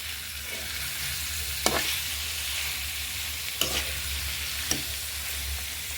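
Snakehead fish and potato pieces sautéing in a pan, a steady close sizzle throughout with a few sharp scrapes of a spoon against the pan, no voices.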